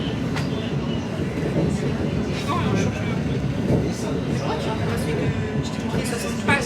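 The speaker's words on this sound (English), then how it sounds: "Our train is just leaving their London Overground class 710, is it?" A London Overground Class 710 electric train pulls away from a station platform, its steady rumble and rail noise continuous and fairly close, with people talking over it throughout.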